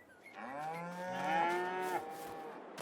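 A single long, drawn-out cow moo rising and falling, clear and close, with light rustling afterward, from cows in a farming simulation video game.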